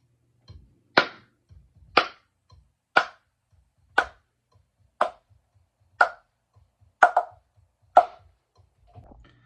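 Nine sharp hand claps at a steady one-per-second pulse, recorded in a quiet room on an Art C3 condenser microphone set to omni, meant to double a snare in a track; crisp and close, no talking.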